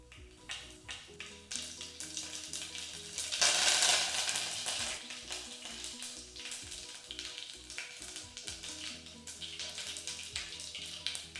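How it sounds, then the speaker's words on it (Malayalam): Mustard seeds and curry leaves crackle and sizzle in hot coconut oil for a pumpkin curry, a busy close frying hiss with popping bursts that swell partway through, with no talk. "എണ്ണ നന്നായി ചൂടായിട്ട് കടുക് ഇട്ട് കൊടുക്കാം."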